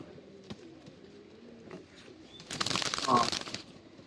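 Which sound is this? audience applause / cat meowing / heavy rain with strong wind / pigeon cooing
pigeon cooing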